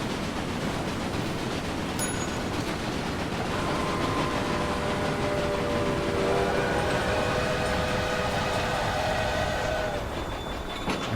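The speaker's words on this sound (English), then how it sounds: "I think that Duke that went past us a second ago is the other one of these trains connecting to Oxford" A train runs continuously in the Railway Empire video game, set in Great Britain, a steady rumbling roar with faint tonal whistle lines, no talk over it.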